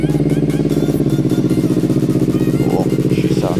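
A 2024 Kawasaki Eliminator 450 motorcycle idles after a cold start, a close, steady, loud engine throb with an even rapid pulse and light mechanical clatter, no voices over it.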